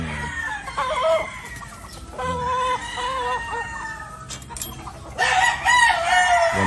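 Chickens on a farm in the Philippines: roosters crow repeatedly and hens cluck nearby. The calls are loud and overlapping, with several crows in a row and a strong burst near the end.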